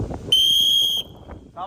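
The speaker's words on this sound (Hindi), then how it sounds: "सीटी बजेगी तो रेस्ट स्टार्ट हो जाएगा" A sharp, high referee-style whistle from a police martial arts fitness training session sounds in one steady blast of under a second, close and loud, with faint voices in the background.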